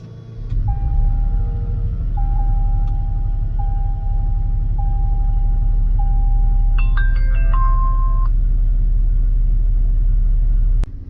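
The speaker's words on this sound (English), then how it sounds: "Now let's go ahead and start up the vehicle." A car engine runs with a steady, loud low rumble at idle for the whole stretch, with a series of electronic chime tones sounding over it and no one talking.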